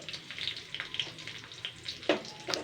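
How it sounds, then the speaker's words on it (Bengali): Whole cumin, raw fennel seeds, a dried red chili and three coarsely crushed garlic cloves frying in hot oil as a tempering for a traditional Bengali chana dal dish, giving a soft steady sizzle with a few sharper crackles near the end. "তো এই তেলের মধ্যে আমি ফোড়ন দেবো আস্ত জিরে আর মৌরি, কাঁচা মৌরি, একটা শুকনো লঙ্কা"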